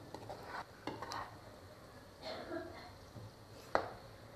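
Capsicum and red peppers stirred in a pan, heard as faint, scattered scrapes and soft clinks at irregular intervals over a quiet background.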